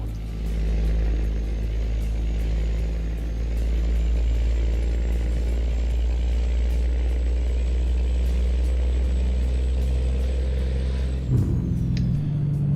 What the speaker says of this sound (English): the exhaust sound is freaking awesome on this M11 Cummings